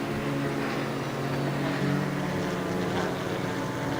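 A TCR touring race car at Donington Park approaches and passes, its steady, loud engine and exhaust drone holding throughout with no pause.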